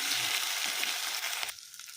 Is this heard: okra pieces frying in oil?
yes